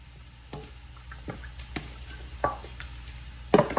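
Seasoned chicken with garlic being stirred in a pot for Jamaican stewed chicken, giving soft scattered scrapes and clinks over a faint low sizzle, quiet and close.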